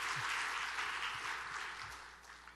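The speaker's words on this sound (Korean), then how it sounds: "박수로 한번 격려해 주시기 바랍니다" A congregation applauding a young pianist at a church service, soft distant clapping that gradually tapers off.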